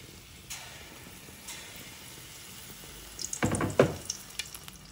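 Challa punugulu, street-style batter fritters, fry in hot oil with a faint background crackle, then a louder burst of sizzling and stirring clatter near the end.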